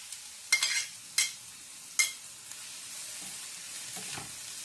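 Two medium onions frying in oil for a tilapia fish chutney, a soft steady sizzle with a few sharp stirring clatters near the start, close and alone with no talk.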